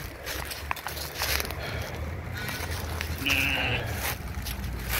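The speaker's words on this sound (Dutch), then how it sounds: "Wat een mooie schapen." A sheep bleats over a noisy outdoor background, a single clear wavering call in the middle of the clip.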